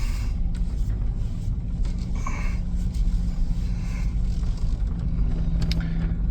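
A Chevrolet Silverado pickup truck drives along, giving a steady, loud engine and road rumble from inside the cab that holds constant for several seconds.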